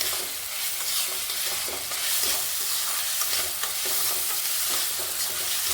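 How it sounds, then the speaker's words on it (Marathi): Tomatoes sauté in a hot pan with a steady, loud hiss of oil and occasional scraping as the pieces are stirred, without any speech. "टोमॅटो परतले बघा"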